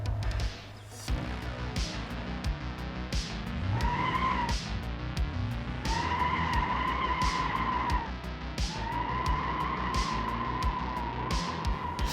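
Ford Crown Victoria tires burning out in BeamNG.drive, a loud sustained tire squeal in long repeated howls over a droning engine, with brief gaps between bursts and no voices.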